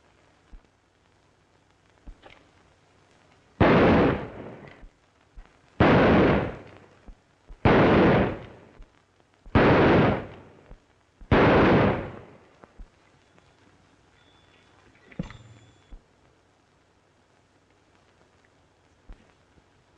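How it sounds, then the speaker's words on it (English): Five loud, evenly spaced gunshots from target shooting at an outdoor range in an old western setting, each a sharp blast with a decaying tail, followed by a faint pop and quiet background. "That's pretty good shooting."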